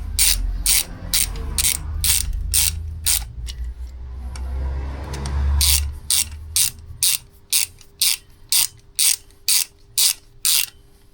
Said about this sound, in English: Tighten it back up with the T30.